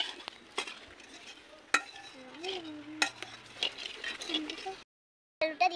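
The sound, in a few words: dried chillies, bay leaves and cumin stirred in hot oil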